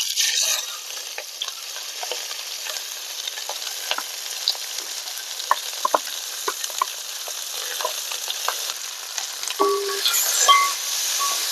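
Ivy gourd, onion, mustard seeds and curry leaves frying in a pan for a Kerala curry, a steady close sizzle with occasional pops and scraping stir sounds.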